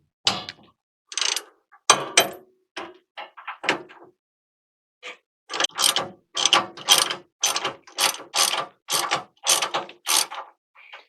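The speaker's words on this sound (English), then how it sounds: "I think really all I need to do is take this nut off because I can just lift the whole thing out" A ratchet wrench clicks in quick bursts while loosening a 3/4 inch nut on a steering damper of a P32 Workhorse motorhome. The clicking is close and loud, starts in short spurts, pauses, then runs in a steady series of strokes.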